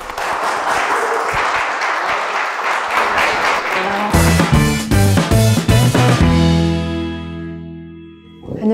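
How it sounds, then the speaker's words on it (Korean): A television studio audience welcomes a guest painter with loud, dense clapping, then music with sustained tones comes in as the applause breaks off and the music fades. "우리 하태임 작가님을 박수로 맞이해 주십시오."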